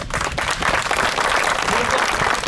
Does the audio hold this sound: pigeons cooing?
no